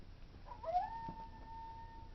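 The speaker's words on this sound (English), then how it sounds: "Ironic that there's a dog right there." A dog in the Final Fantasy VIII video game lets out a single drawn-out howl that rises and then holds a long tone, fairly faint over quiet game ambience.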